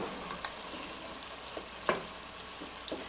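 About three cloves of garlic frying in a pan for pasta e fagioli soup, a steady close sizzle with a few sharp crackles and stirring clicks, no talking.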